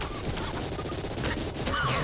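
Submachine gun wands fire in a twin-stick pixel-art metroidvania game, a dense, steady rattle of rapid shots with crashing impacts running the whole time at close, fairly loud level.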